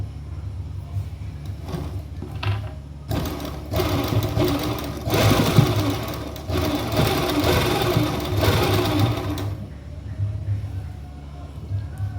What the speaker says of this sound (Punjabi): ਹੁਣ ਆਪਾਂ ਇਹਦੇ ਉੱਪਰ ਸਲਾਈ ਲਾਵਾਂਗੇ ਪਹਿਲਾਂ ਆਪਾਂ ਇਧਰਲੀ ਸਾਈਡ ਨੂੰ ਸਲਾਈ ਲਾਵਾਂਗੇ